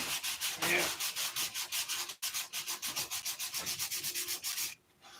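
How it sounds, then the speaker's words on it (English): Close, steady hand-sanding of primer on fillets with 500-grit paper, quick rhythmic back-and-forth rasping strokes with a brief pause midway. No talking. "All this primer needs to be sanded back off."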